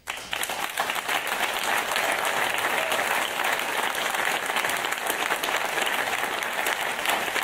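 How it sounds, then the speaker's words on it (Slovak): Sustained audience applause fills a Slovak podcast awards ceremony, a dense, even wash of many hands clapping that holds steady throughout without a break. "Takže veľká vďaka a potlesk pre nich."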